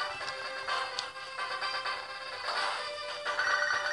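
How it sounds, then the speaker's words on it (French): A phone rings in a Pokémon video game as a bright, repeating electronic ringtone that plays in bursts over game music. "téléphone qui sonne"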